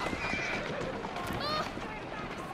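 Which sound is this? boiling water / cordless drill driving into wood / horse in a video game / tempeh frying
horse in a video game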